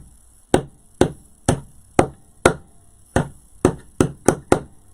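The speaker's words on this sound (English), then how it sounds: "I have my little itty bitty toy hammer." A small toy hammer taps a wooden wreath frame ten times in an uneven rhythm, each sharp knock close and clear with a short decay against near silence.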